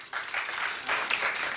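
Studio audience at a daytime talk show's Christmas episode claps briefly in response, a short, dense patter of hands filling the room for under two seconds with no talk over it.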